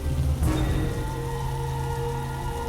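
Rain falling steadily on a surface, a soft continuous patter beneath a sustained tonal background sound, with a brief louder burst near the start.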